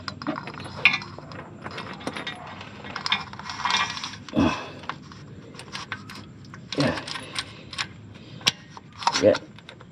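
Oil filter wrench turning on a car's oil filter during an oil change, producing intermittent metallic clicks and ratcheting scrapes in short bursts, with a voice talking now and then.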